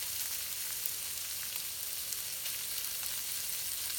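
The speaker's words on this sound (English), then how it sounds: "we're gonna throw it in there and start cooking it" Longaniza sausage sizzles and crackles steadily in a hot pot, a dense continuous hiss with small pops, close and even throughout, no voices.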